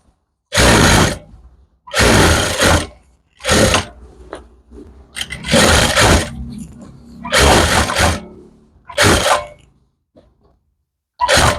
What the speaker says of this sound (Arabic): غادي ندوز كوتور هنايا